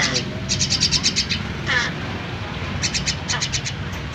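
A young myna gives rapid, repeated chattering calls in bursts, close by, with a harsher squawk in the middle over a low background rumble.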